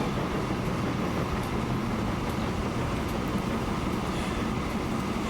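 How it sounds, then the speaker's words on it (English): A copper freight train rolls past in the railway simulation game Transport Fever 2, a steady, loud, unbroken rumble of wheels and wagons with no talk. "We'll probably have to stop and let this copper train go first."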